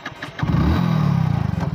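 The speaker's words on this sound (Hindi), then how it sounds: "और बाइक को करते हैं स्टार्ट," A motorcycle engine cranks with a few short bursts, then catches and settles into a loud, close, steady rumbling idle with a fast regular pulse, no speech over it.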